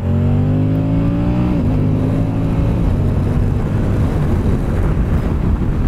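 A 2023 Moto Guzzi V100 Mandello motorcycle accelerating on the road, its loud engine note climbing through the revs and dropping at a quick-shifter gear change, then continuing amid heavy wind rush.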